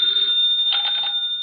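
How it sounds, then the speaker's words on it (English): An old-fashioned telephone bell rings steadily and loudly, a continuous metallic trill that briefly swells midway, heard alone as the opening cue of a vintage radio mystery drama. "the ringing of that phone bell means mystery,"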